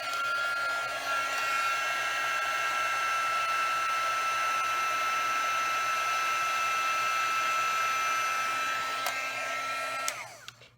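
A craft heat tool blows hot air over embossed paper for about ten seconds, a steady loud whirring hum that cuts off near the end.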